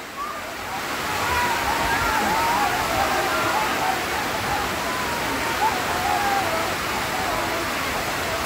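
Heavy rain pours steadily over a riverbank where a wooden race boat is being launched, a dense, constant wash of water noise that swells after the first second and holds loud, with faint voices beneath it.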